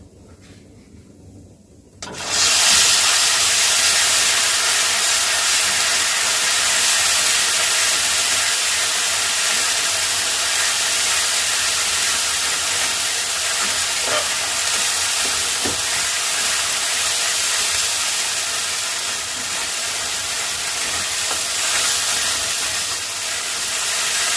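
A paste of ground ginger, cumin and green chili hits hot oil with a sudden loud sizzle after two quiet seconds. The steady, close hiss keeps going and eases slightly toward the end.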